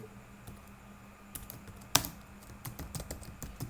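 Typing on a computer keyboard, entering a title into an online classified ad form, heard as quiet, close key taps in uneven bursts with one sharper keystroke partway through.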